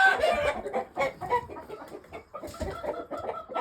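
Barred Rock chickens and roosters cluck and squawk continuously in a crowded coop, a busy overlapping chorus of close, fairly loud calls with no talking.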